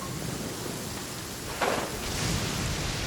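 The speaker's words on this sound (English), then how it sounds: "Man, this thunder is loud." Steady heavy rain in a desert area of the video game Genshin Impact, with a sudden loud thunderclap breaking in midway and rumbling on over the constant downpour.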